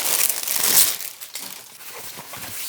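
Crinkling plastic wrap on a barber cape being pulled open, loud and close, a dense burst of crackles that eases into softer rustling.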